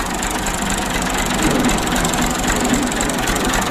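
A tractor engine runs on a road with a steady, loud, rough drone and a low knocking rumble that holds evenly from start to finish, no voices over it.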